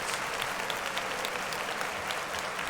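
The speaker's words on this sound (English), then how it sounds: "Clap it up." Dense, continuous clapping from a podcast audience, steady and loud throughout with no pauses, a crowd applauding together.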